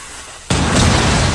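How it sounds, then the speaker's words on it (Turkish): Termite's wall breaching charge detonating in Rainbow Six Mobile: a sudden loud, broadband blast after a brief quiet lead-in, holding as a dense roaring wash to the end. "bunu bu şekil koyuyorsun ve patlatıyorsun"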